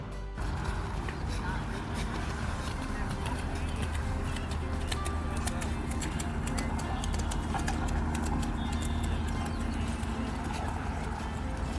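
Hooves clopping steadily on hard ground as a horse walks, close by, at a horse racing track, with people talking and faint birds in the background.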